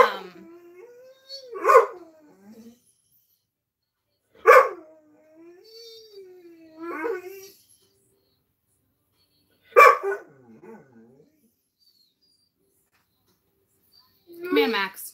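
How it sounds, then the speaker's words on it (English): A dog barks indoors at a cat, sending out several separate sharp barks spaced a few seconds apart, with whiny, howling vocal sounds between the bursts. "Stop barking at her."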